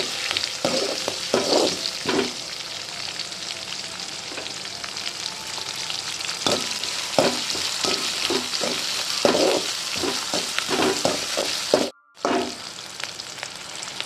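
Onion, garlic and curry leaves sauté in a pan for a Tamil drumstick masala curry, with a loud, steady sizzle and repeated rhythmic spatula scrapes and taps throughout, broken by a brief dropout near the end.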